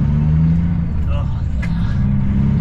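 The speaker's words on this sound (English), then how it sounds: "let's get those tires singing." Truck tires humming steadily on the highway under a loud low engine and road rumble, heard from inside the cab with a person talking over it.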